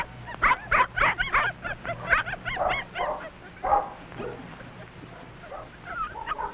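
Several young puppies romp on a beach with driftwood, letting out a quick run of high yips and short barks, then scattered softer yelps and whimpers, fairly quiet and close.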